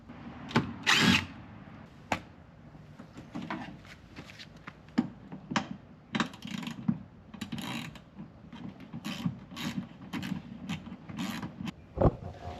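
A power tool backing a 13mm bolt out of the factory horn on a Mercedes Sprinter van, with short whirring drill bursts, ratcheting clicks and clanks in an uneven rhythm, close by.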